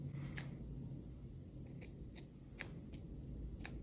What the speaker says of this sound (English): I'm just gonna cut like the really obvious hairs that are too long.